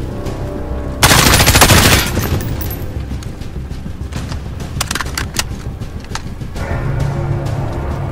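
A loud burst of machine gun fire rattles for about a second in Modern Warfare on the hardest realism difficulty, followed by scattered distant shots and battlefield rumble.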